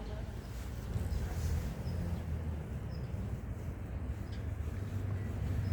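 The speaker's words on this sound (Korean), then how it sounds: "괜찮아 바람 지나가네" Wind blows outdoors as a steady low rumble buffeting the microphone, continuous and fairly strong throughout.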